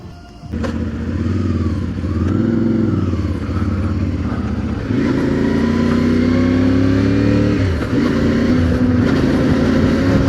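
A CFMOTO 450MT adventure motorcycle pulls away and accelerates, its mid-pitched engine note climbing steadily through the gears, loud and close throughout with a brief dip between shifts.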